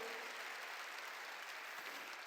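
A church congregation at a New Year's Eve service claps together in a dense, sustained burst of applause that fills the room evenly from start to finish.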